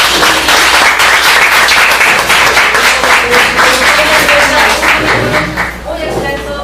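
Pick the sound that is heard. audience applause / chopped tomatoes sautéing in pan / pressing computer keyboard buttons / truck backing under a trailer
audience applause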